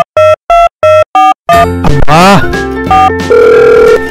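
A telephone rings in five evenly spaced, loud electronic bursts that go unanswered, followed by a noisy, cluttered movie scene with voices and music.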